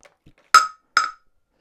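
A Nintendo Switch 2 with a clear tempered glass screen protector hits the floor after a 4-foot drop: two crisp, bright clinks about half a second apart, close and loud, with a faint rustle just before.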